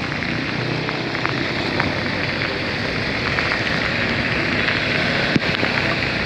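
Heavy rain with strong wind pours steadily in a dense, continuous hiss with scattered drops pattering nearby, in cold weather in Da Lat, Vietnam.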